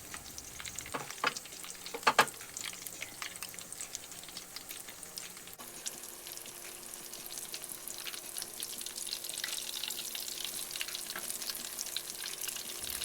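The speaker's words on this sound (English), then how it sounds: "Then put the fish with the wine batter down into the pan." Wine-battered fish fries in a pan with a steady, soft sizzle and crackle, a few sharper pops near the start, and the hiss carrying on evenly throughout.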